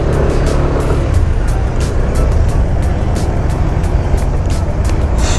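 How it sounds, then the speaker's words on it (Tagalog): Dense, busy road traffic streams past a work zone on Panganiban Drive, a constant loud rumble of cars and trucks with repeated hiss-like swells of passing vehicles, heard close with no voices. "Busy na ang kalsada"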